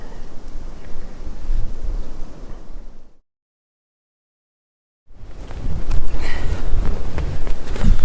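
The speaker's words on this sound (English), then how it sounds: "God, I wish this wind would just stop." Strong wind buffets a microphone outdoors during a hike and camp cook, producing loud rumbling gusts that cut out completely for about two seconds midway, then return even harder.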